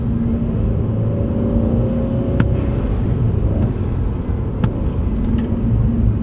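A modified Mercedes-Benz C250 W204 engine drones steadily while driving, with a few brief sharp pops and crackles on lifting off the throttle, close and loud throughout.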